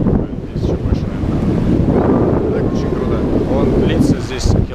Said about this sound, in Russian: Это пляж.